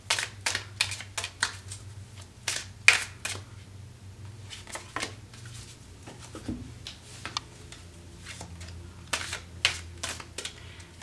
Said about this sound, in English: some days I can shuffle and some days I throw them all over the place